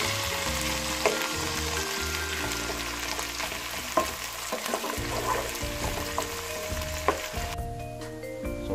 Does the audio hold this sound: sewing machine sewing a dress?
no